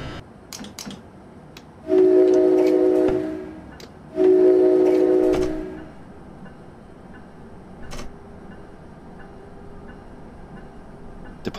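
An ALP-45D locomotive departing Newark Penn Station in Train Simulator 2017 sounds two long horn blasts, one after the other, over a low rolling rumble and occasional clicking of the rails.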